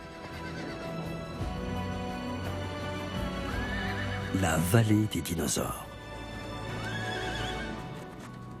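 Horses in a remote valley whinny and snort over the clatter of hooves, mixed with music while a narrator speaks.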